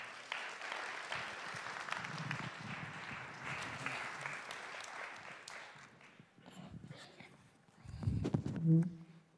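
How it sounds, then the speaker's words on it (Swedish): An audience claps to welcome a speaker, the applause fairly soft and steady at first, then thinning out as the room quiets and a nearby voice and some handling sounds come forward. "Ger Erik en applåd"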